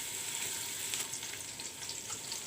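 Onions fry quietly in a pan, giving a soft, steady sizzle with a few faint crackles and no speech over it.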